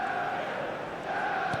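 A capacity crowd fills Old Trafford for a Manchester United versus Paris Saint-Germain friendly, a dense, steady roar of chanting voices carrying evenly across the stadium, loud and unbroken, with no commentary on top.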